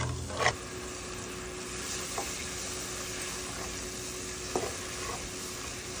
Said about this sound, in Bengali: ভালো করে মশলাটা কষিয়ে নিচ্ছি যাতে মশলার কাঁচা গন্ধটা চলে যায়